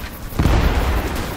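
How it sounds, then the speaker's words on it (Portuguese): A grenade explodes in a shooter video game: one sudden heavy boom with a deep low rumble that lingers and fades over about a second. "Lançando granada!"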